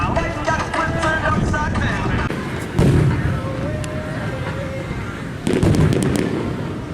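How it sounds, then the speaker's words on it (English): Fireworks burst outdoors on a humid, cloudy night, with a sharp loud boom near the three-second mark and another near five and a half seconds over a steady crackling wash of background noise. "It's pretty funny how it explodes and then you hear it"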